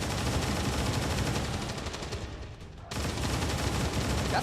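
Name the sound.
rapid fire gunshots, from video game Long War 2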